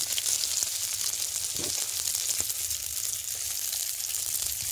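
Fish fries in oil in a wok over a clay stove, giving a steady, loud sizzle and crackle that holds unbroken throughout, with no talk.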